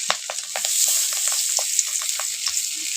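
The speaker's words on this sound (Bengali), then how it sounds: "তেলটা দেখো ভালোই গরম হয়ে গেছে, এখন মাছগুলো তুলে দিচ্ছি" Pangas and tengra fish frying in hot oil, a steady dense crackle and sizzle with scattered sharper pops and spatters, close and loud, no voices.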